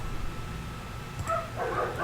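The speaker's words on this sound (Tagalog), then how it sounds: "pagpasensyahan niyo na po kung may tahol kayong naririnig" A dog barks and yips a few times in the background, faint and a bit distant, over a steady low hum of room noise.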